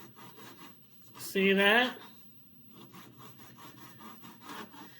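A knife saws through shredded kataifi pastry for chocolate pistachio bars, repeated short crisp scraping strokes close by, with a brief louder rasp and squeak midway; a voice speaks briefly.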